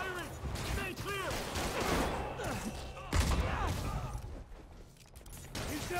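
Gunfire rattles in the video game Marvel's Spider-Man Remastered, dense bursts of shots and impacts mixed with chirping game effects and crashes, loud and busy throughout.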